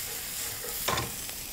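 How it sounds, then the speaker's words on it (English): Onions, celery, and green and red peppers sautéing in a pan, a soft steady sizzle with a brief stir or scrape partway through. "saute it until your onions and celery get translucent and your peppers get nice and tender"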